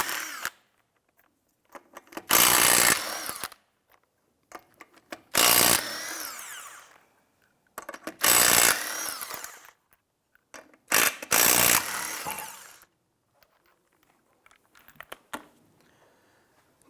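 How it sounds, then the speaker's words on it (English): A power tool with a 19mm socket loosens and removes the lug nuts on a 2005-2007 Ford 500. Four loud, separate bursts of whirring come one after another with quiet gaps between them. "Using your 19mm socket, loosen and remove the 5 lug nuts."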